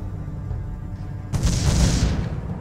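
A cannon tower in the tower-defense game Defense Grid fires once with a sudden, heavy boom midway, and the blast rumbles on over a steady low background hum.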